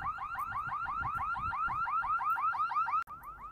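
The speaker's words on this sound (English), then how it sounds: "Alarm was set off in this store here." A store's burglar alarm cycles rapidly in a loud, repeating electronic whooping pattern, sustained and close, then briefly cuts out before resuming.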